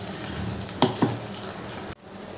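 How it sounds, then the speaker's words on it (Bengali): Yogurt and spice mixture for a Bengali doi katla fish curry frying in a pan, a steady close sizzle with two brief stirring scrapes, then cutting off abruptly near the end. "দইয়ের মিশ্রণটা দিয়ে ভালো করে এই মশলার সাথে কষিয়ে নেব"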